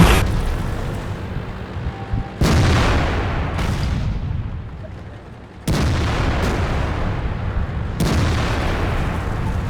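Gunfire in a shooter video game, sharp loud booming shots at about 2.5, 5.7 and 8 seconds, each followed by a decaying rumbling tail, with a quieter crackle between.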